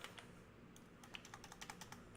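Rapid, uneven keystrokes clatter on a computer keyboard during Unreal Engine game development work, the taps quiet and close against a low background hum.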